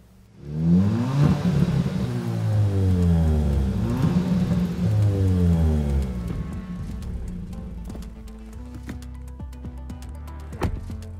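A Kia Ceed GT's 1.6 turbocharged gasoline engine, paired with a 7-speed dual-clutch gearbox, revs loudly in repeated rising sweeps, then settles to an idle with scattered clicks and knocks.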